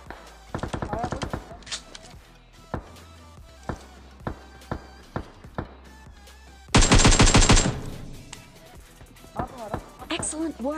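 Single-tap fire from an M rifle in the video game PUBG: a series of sharp, evenly spaced individual shots, loud and near, then a dense rattling burst, with someone talking throughout.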